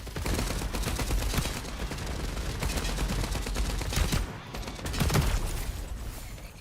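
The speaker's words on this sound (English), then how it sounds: "So this is an ability. It's a shotgun." Shotgun ability firing in the video game FragPunk amid a dense, continuous barrage of game gunfire, loud and near, with heavy bursts throughout and a brief dip before another surge.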